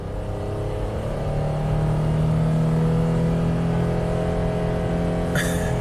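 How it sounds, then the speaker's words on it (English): A Honda car with 100k miles pulls away from a stop at steady throttle, the engine note climbing smoothly in pitch with a whine, ending in a brief sharp clunk. "from a stop, we're just going to hold this throttle steady"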